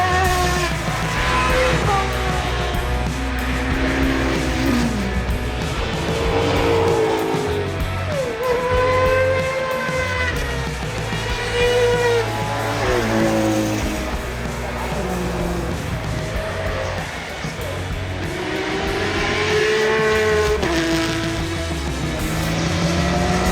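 Maserati cars driving the hill course at the Goodwood Festival of Speed, engines revving and rising and falling in pitch as several cars accelerate past, loud and continuous with crowd noise behind.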